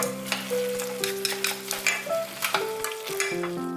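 Seasoned namul vegetables for Jeongwol Daeboreum stir-fried in a pan until only a little broth remains, with steady soft sizzling and repeated scraping and clinking strokes of a utensil, close and clear with no talking.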